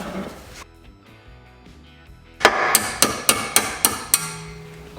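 Metal hammer striking a cotter pin on a car's ball joint, about seven sharp ringing blows in a steady rhythm, close and loud, after a quiet lead-in.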